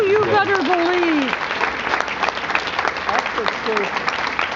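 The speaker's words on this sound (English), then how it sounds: "How about a nice round of applause for our parents?" A room of people at a Harper High School reunion breaks into warm applause, steady clapping that follows a brief raised voice at the start.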